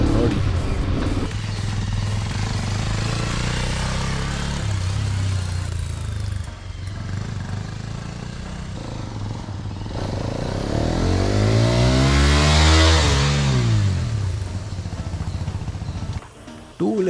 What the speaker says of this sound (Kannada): ಅದು ಒಂದು ಗಾಡಿಯ ಸ್ಟಾಕ್ ಸೌಂಡ್ ಕೇಳಿಸ್ಕೋಬೇಕಂದ್ರೆ ನೀವು ಹೆಡ್ಫೋನ್ಸ್ ಯೂಸ್ ಮಾಡಿದ್ರೆ ಇನ್ನೂ ಬೆಟರಾಗಿ ಕೇಳಿಸುತ್ತೆ.